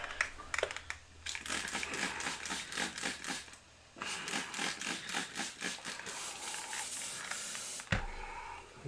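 An airbrush gun being cleaned out, giving rapid bursts of hissing spray in a choppy, pulsing rhythm, close and fairly loud, with brief pauses near four and eight seconds and no talking.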